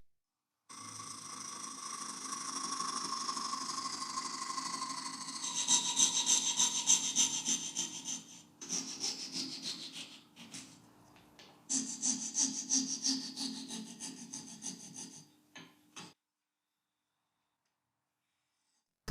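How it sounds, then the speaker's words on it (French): A scroll saw buzzes through wood up close in several long runs separated by brief pauses, then falls silent. "Je vais utiliser ma scie à chantourner, sa lame s'enlève et se remet facilement."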